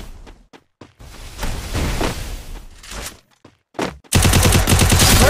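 Gunfire in the Free Fire mobile battle game during a 1 vs 1 custom match: scattered sharp shots and bursts, followed by a loud, dense rapid-fire stretch at the end.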